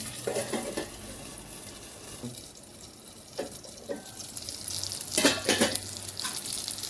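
Crispy fish fry cooking in a pan, a soft sizzle with bursts of louder spitting and clatter at intervals, fairly quiet overall.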